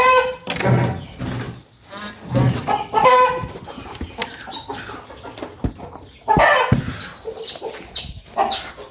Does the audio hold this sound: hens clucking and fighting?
yes